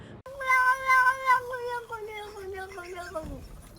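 A cat in Dark Souls 2 lets out a single drawn-out meow that slides downward in pitch, loud and close, lasting a few seconds.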